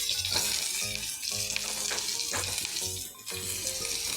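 Onion dropped into hot oil for fenugreek (methi) bhaji, giving a steady close sizzle with some clinks and stirring sounds over it.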